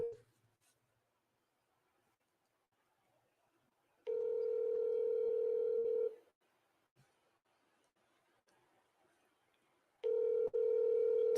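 An outgoing phone call rings out with two long, loud ringback tones several seconds apart, with faint quiet sounds between them and no clear talk.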